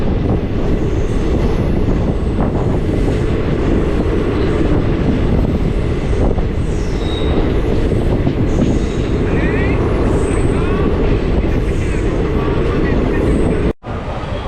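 The Circar Express rumbles into a station on the Chennai line, a loud continuous roar of wheels and carriages with high squeals and whines above it, and a sudden brief dropout near the end.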